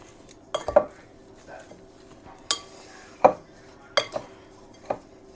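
Broccoli tossed with Parmesan in a mixing bowl, giving a few scattered clanks and scrapes of utensils against the bowl, close and moderately loud, with quiet pauses between.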